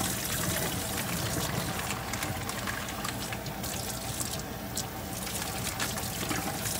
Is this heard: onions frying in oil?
no